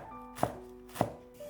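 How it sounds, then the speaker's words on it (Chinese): Knife chopping fresh green onions, picked straight from the garden, into small rings on a cutting board: two distinct close, crisp chops about half a second apart, with a quiet, faintly humming room behind them. "给它切成葱花。"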